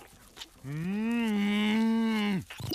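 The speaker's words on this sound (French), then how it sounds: "Bonjour, Madame Vache." A cartoon cow gives one long, sustained moo, loud and close, that swells in, holds steady for nearly two seconds and then cuts off, with only brief quiet sounds before and after.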